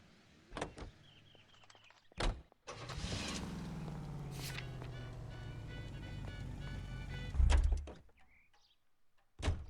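Car door thuds open in LA Noire, then a long low engine-like hum and shuffling as someone climbs into the seat, closing with another solid door clunk; fairly close, no talking.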